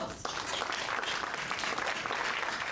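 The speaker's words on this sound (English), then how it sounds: "I want to give you a round of applause" An audience at a Black History Month fireside chat breaks into applause, a dense, steady patter of clapping that starts abruptly and continues evenly to the end.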